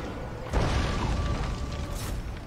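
Hellcannon fire in Total War: Warhammer 2, a single heavy boom that erupts suddenly and rolls on as a sustained rumble with mechanical rattling in a loud battle soundscape.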